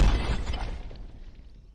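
A rock spell strikes in The Mage Arena, a single heavy shattering crash at the start that breaks apart and rumbles away over the next second and a half.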